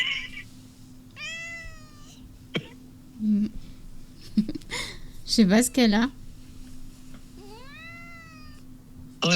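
An upset cat meows repeatedly in rising and falling cries, loud and close, alternating with people talking on a phone call nearby.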